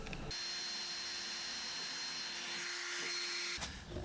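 A wire wheel cleaning a push mower wheel axle makes a steady, close whirring grind with a constant tone that lasts a few seconds and ends abruptly.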